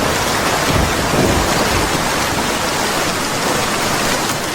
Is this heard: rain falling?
yes